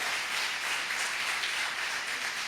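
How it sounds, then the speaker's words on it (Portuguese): A congregation at a Quadrangular church service claps loudly and densely, a continuous wash of many hands applauding together at steady volume with no voices standing out. "se vai aplaudir, então aplaude bem forte a presença, mais forte, a presença do nosso Deus"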